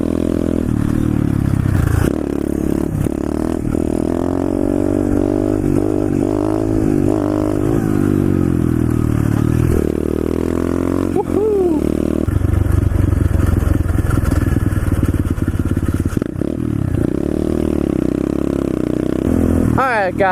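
A pit bike engine at half throttle drones steadily with shifting pitch, rising and falling as it rides, close and loud with some rattle and scraping; a voice talks over it at times.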